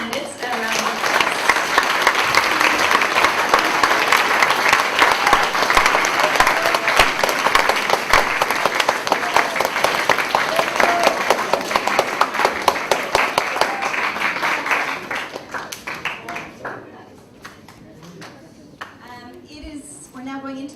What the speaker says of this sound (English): why don't you join and give all 3 candidates a round of applause.